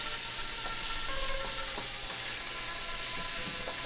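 General Tso's chicken stir-frying in a pan, a steady hiss of oil with a few light scrapes and clicks from stirring, close and moderately quiet, no talking.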